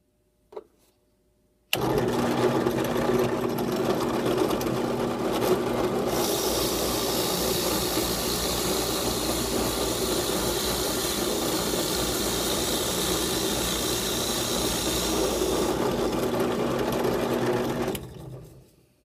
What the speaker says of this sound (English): And we're drilling pretty fast again.